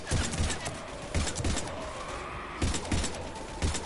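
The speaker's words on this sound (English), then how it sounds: "We're taking heavy fire." Heavy gunfire in Mass Effect 3: repeated loud thudding shots and blasts in an irregular rhythm, with booming impacts spread across a few seconds in a chaotic battle.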